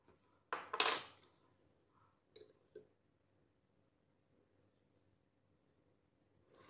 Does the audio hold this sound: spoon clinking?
yes